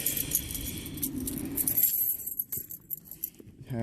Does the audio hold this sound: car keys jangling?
yes